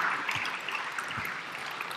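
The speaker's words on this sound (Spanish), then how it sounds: "Recibámosla con un aplauso." A seated audience at a tribute event in Madrid's Matadero claps to welcome a speaker, a thick, even wash of applause held at moderate level without pause.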